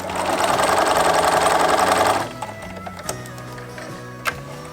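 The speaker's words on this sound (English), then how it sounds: "I'm gonna start sewing." A sewing machine stitches a project bag in a loud, rapid, even whir for about two seconds, then stops, leaving a few faint clicks and handling taps.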